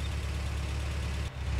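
A GAZ Vodnik military vehicle drawing near in the Arma 2 video game, heard as a steady, loud, low engine rumble that dips briefly near the end before resuming.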